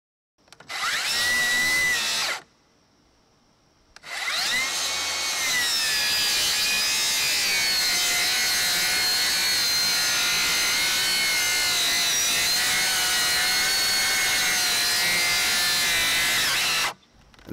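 A Milwaukee 18V rear handle circular saw cuts through a treated 4x4 in two passes: a short loud burst, a brief pause, then a long steady loud cut lasting over twelve seconds with a whining motor and rasping wood.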